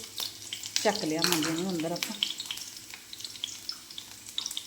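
Garlic tempering crackles in hot oil for dal on an outdoor stove, a close, sustained sizzle with a short stretch of speech over it early on.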